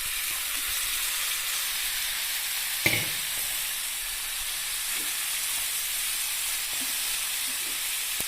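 Washed, drained cabbage sizzles in a hot frying pan while cooking a Kerala-style cabbage koottu, a steady bright frying hiss with one brief clatter of a utensil partway through.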